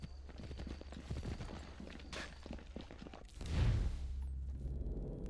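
Horse hooves clip-clop in Assassin's Creed 3, a run of close, rhythmic thuds followed by a louder heavy rumble and game ambience, with brief voice sounds.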